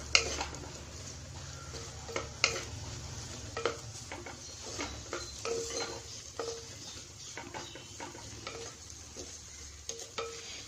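Onions sautéing in a pan for a Kerala thattukada tapioca and egg masala, a steady low sizzle under repeated scrapes and clinks of a metal spoon stirring against the pan, with no talking.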